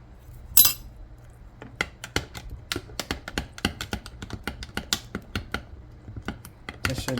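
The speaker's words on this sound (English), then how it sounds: "Oh, I have to stir that more." A spoon stirs a chia seed and flax seed mix in a bowl, giving a string of quick, light clinks and taps close by in an irregular rhythm, with one louder knock near the start.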